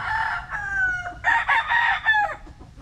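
A gray gamefowl stag gives one full, loud crow close by, a rising then drawn-out cock-a-doodle-doo with a short opening call, heard alone over faint background noise.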